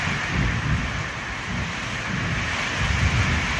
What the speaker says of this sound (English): that's a thunder.